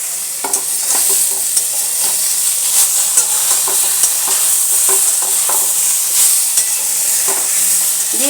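Tomato sizzling and frying in a pan for a vegetarian amaranth-stem curry, a steady bright hiss with scattered soft stirring knocks throughout, fairly loud and close, with no talking.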